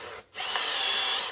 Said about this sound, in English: So I just put it in a normal drill and run it on low.